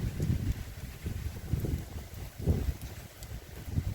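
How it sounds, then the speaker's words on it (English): Gusty hurricane wind roars and buffets against the microphone while a kite is blown about, with low rumbling surges rising and falling every second or so. "It's just a gust of wind caught it, blowed it up."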